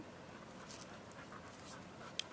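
A pet dog pants softly and steadily close by, a quiet rhythmic breathing with one brief sharp click near the end and no talk.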